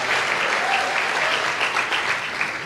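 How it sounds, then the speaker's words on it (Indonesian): Church congregation applauding during a sermon, a loud, steady wash of many hands clapping continuously from start to finish. "Dan kalau tepuk tangan tolong lebih rame lah dari ini tepuk tangannya"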